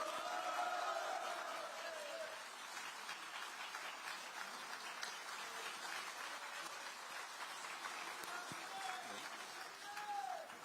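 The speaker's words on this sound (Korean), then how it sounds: "다음은 조국혁신당의 조국 대표님 큰 박수로 모셔보도록 하겠습니다" A crowd at an outdoor 5·18 rally in Gwangju applauds and cheers as a party leader is welcomed to the stage, a steady, moderately loud wash of clapping with scattered voices that continues for several seconds.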